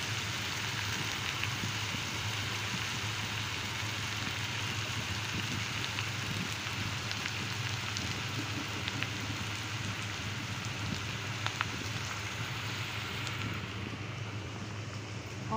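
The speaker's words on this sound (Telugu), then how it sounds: "ఆనియన్స్ అనేది కొంచెం ఫ్రై అవుతుంది గీలో." Onions fry in ghee in a pan with a steady, soft, even sizzle that continues throughout without pause.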